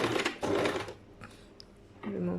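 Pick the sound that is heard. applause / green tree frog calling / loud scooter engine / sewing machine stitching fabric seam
sewing machine stitching fabric seam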